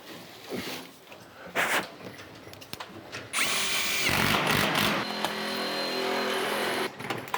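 A power drill drives black screws into a post-frame building's black ceiling, with short bursts of whirring, then a long sustained high-pitched run close by and a brief final burst.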